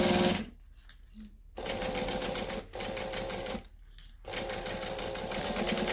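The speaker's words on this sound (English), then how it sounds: "We're going to stitch with the same seam allowance we used for the outside." A domestic sewing machine stitches a bag seam in fast steady bursts, close and loud, with three short pauses between runs as the fabric is turned.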